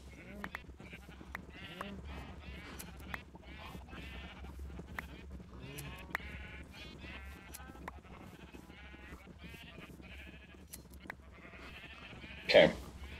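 Sheep bleat in Minecraft, several short, fairly quiet bleats spread across the scene, mixed with clicks and a louder burst near the end, and talk in between.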